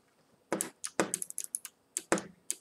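Clicky computer keyboard keys are tapped in quick irregular bursts during a Minecraft parkour session, close to the mic and crisp, with short pauses between clusters and no talking.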